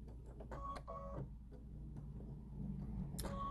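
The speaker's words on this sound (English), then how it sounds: "I'm going to back tack before I start sewing." A sewing machine back tacks on fabric for a cup koozie, with short bursts of rapid mechanical stitching separated by pauses, close and fairly quiet.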